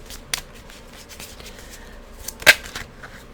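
Tarot cards being shuffled and drawn from a deck by hand: soft riffling and rubbing with a few sharp card snaps, the loudest near the end, close and without talk.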